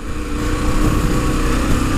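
KTM 1050 Adventure motorcycle engine under way while riding, a loud, steady, close mechanical drone with a gritty low rumble, no speech.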